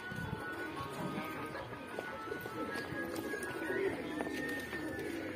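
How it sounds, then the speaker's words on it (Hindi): Soft cooing of highflyer tournament pigeons amid a busy, steady background murmur, with faint rustles and occasional higher bird notes throughout. "ये देखिए दोस्तों बहुत ही प्यारे कबूतर हैं"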